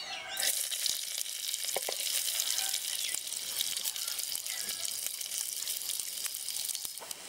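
Onions drop into hot oil in a pan and sizzle loudly and steadily, a dense close crackle with small spits and pops throughout.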